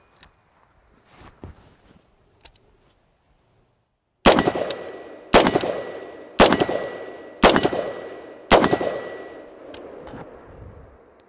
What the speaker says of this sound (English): Again, another three rounds of Frontier on top of two rounds of Norma 55 grain.